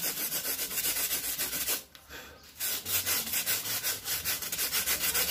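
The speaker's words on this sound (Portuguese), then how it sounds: "Primeiro a grossa, o ralador, tira o excesso," Coarse rasp grater shaping a styrofoam letter, a close, rapid scraping rub in steady back-and-forth strokes, briefly pausing midway before resuming at the same pace.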